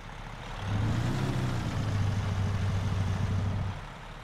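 A big truck engine idles in American Truck Simulator, a steady low rumble that swells in after half a second and holds evenly, loud and close, before easing off near the end, with no talk over it.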